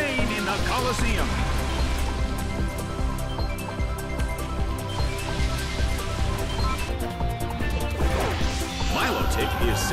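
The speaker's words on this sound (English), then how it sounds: "It's pouring rain in the Colosseum." Steady, dense rain weather effect in a Pokémon Battle Revolution Colosseum battle, a continuous hiss layered with game music and sound effects while an announcer voice speaks over it.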